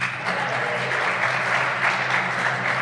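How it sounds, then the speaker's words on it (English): Loud, dense applause from a crowd fills the whole moment at a squash match at the African Seniors Championships, steady clapping with no pause. "Loud applause then."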